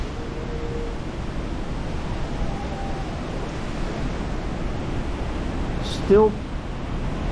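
Typhoon Mawar wind blowing outdoors, a steady broad rushing roar that holds without letup, with a brief voice near the end.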